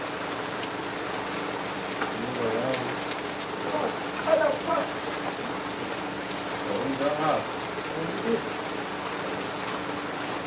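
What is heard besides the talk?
heavy rain falling in Lagos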